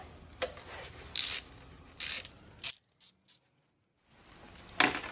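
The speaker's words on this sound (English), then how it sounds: "Remove the 4 bolts holding the fuel rail on." A ratchet loosens the bolts holding the fuel rail during a 26B engine injector swap, making short bursts of rapid clicking separated by pauses and a brief silence, close and fairly clear.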